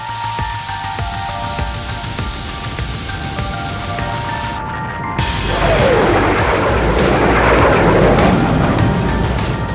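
Red Arrows jet aircraft on a trial run: a steady broadband roar builds and swells louder partway through, continuous and fairly close, with no talk over it.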